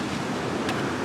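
Steady, loud ocean waves washing onto a beach near Honolulu, a continuous broadband rush with slight wind noise and one brief hiss swell; no talking.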